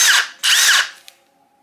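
A Milwaukee gen 4 impact driver, model 2953-20, runs at high speed in two quick, loud whirring bursts close by, with a brief click after the second.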